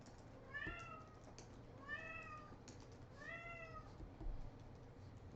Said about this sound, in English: The cat's yelling at me.